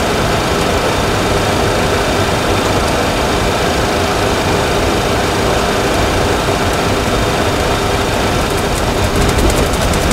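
A propeller aircraft engine drones in a Boeing 737 cockpit simulator, a loud, continuous low hum that holds steady throughout with no talking.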